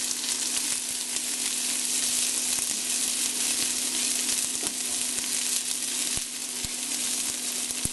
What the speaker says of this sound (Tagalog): Igigisa lang natin to sandali hanggang sa mag light brown na yung bawang.